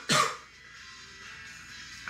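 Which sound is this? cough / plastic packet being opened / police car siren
cough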